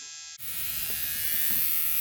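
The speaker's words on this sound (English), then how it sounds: "And then you can actually hear the solenoid activated" Boost control solenoid on a twin-turbo LS-swapped car pulsing at 85 Hz in output test mode, a steady electric buzz that starts abruptly and holds continuously, fairly close and moderately loud, with no talking.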